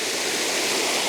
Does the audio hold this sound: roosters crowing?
no